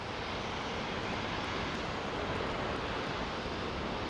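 An Airbus A330-900neo airliner passes close by at Heathrow's runway 09R, a loud, steady, broadband engine roar that fills the whole stretch without any talk.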